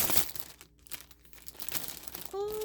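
Crinkling plastic packaging being pulled open around a sock, close and intermittent rustles and crackles, with a brief faint pause midway.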